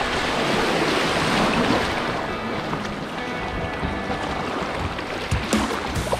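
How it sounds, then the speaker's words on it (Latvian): Rough, churning water of the rapids on the Lielā Jugla river during a boat trip, a continuous wash of waves with wind buffeting the microphone, loud and close, with occasional small knocks and no talking. "Te labi viļņi"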